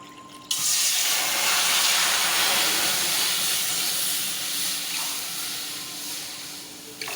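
Water pours into a cooking pan on the stove for kesari, a steady, loud splashing hiss that starts abruptly and runs close by for several seconds before tapering off.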